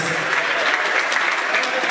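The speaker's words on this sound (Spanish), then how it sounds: "Fuerte el aplauso" Dense, continuous clapping from a crowd at a parenting school certificate ceremony, loud and even throughout.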